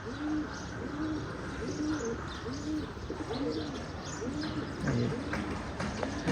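Soft, repeated pigeon coos recur in a steady rhythm against a constant outdoor background hum, with faint chirps now and then.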